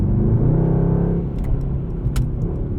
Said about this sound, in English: it downshifts for me while I'm braking all the way down into second gear for this corner